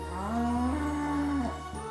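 Cows being let out of barn gates and shooed through the front door, one cow giving a long, loud, close moo that rises and holds before dropping off, with a shorter low sound after.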